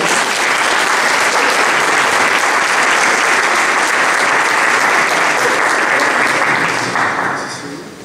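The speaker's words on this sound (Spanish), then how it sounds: "Vamos a recibirlo con un aplauso, pastor" Loud, dense congregation applause fills a church service in welcome of pastor Miguel Ángel, sustained and close for several seconds before tapering off at the end.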